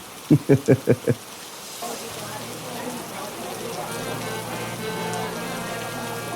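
Steady rain pours over a cartoon meat market, a continuous wash of patter that follows a quick burst of five loud knocks at the start.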